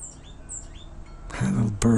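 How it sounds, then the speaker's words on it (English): Small birds chirp with a few thin, high tweets near the start, followed by close voices speaking over the last half second. "Birds are running around here."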